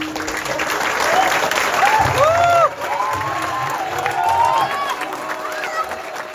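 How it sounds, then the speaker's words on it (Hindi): An auditorium audience rises for a standing ovation after a Maithili stage play, loud sustained applause filling the room steadily throughout, with scattered whoops and crowd voices mixed in. "जते लोग रहथिन सब ठाढ़ भऽ कऽ ताली बजा रहल छथिन।"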